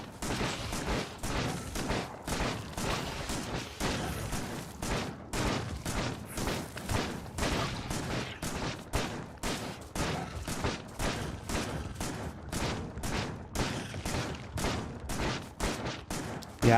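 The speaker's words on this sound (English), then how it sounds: "the medium biters just do not care about that shotgun very much" Rapid shotgun blasts in the video game Factorio, fired at medium biters, repeat steadily and loudly in a dense, relentless rhythm, with no voices.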